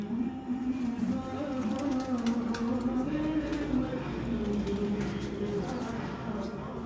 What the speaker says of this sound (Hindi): ये देखें जी, 70 कबूतर माशाल्लाह छोड़े हैं मिठ हसन भाई ने।